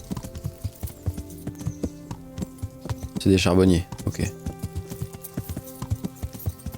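Hooves of a horse in the video game Kingdom Come: Deliverance clip-clop in a steady, even rhythm throughout, close and distinct, with someone briefly speaking midway over the footfalls.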